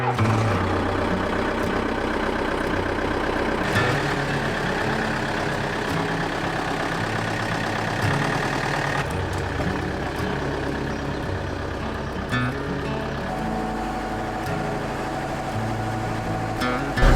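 A van engine runs steadily while driving, a continuous loud rumble with road and cabin noise throughout, no pauses.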